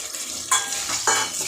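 Boiled potatoes drop into hot oil and get stirred, two quick bursts of sizzling with metal spatula clinks against the pan over a steady close frying hiss.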